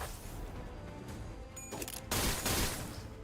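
Gunshots in the video game Limbus Company: a short crack followed by a heavier loud blast, both cutting through a steady background of game music and effects.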